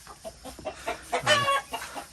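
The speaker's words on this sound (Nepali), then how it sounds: "यहाँ भाले कुखुरा रहेछ, यिनीहरू डराएछन् है" A rooster at a home in Charikot, Dolakha, Nepal gives a short burst of clucking amid scattered soft farmyard noises, fairly close.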